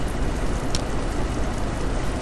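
Rainfall in American Truck Simulator, a continuous broadband hiss of drops with a faint low rumble underneath, steady and fairly loud, with one small brief tick early on.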